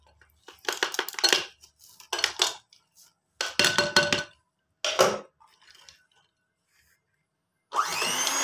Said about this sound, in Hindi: हुण आपां बर्फ पा देंगे।